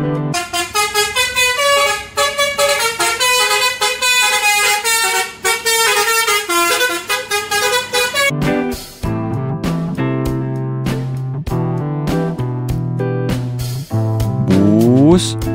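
The Eka Cepat bus sounds its Telolet horn close and loud, first a fast warbling tune of stacked tones, then a string of short clipped honks in a bouncy rhythm, ending with a sliding tone. No voices are heard.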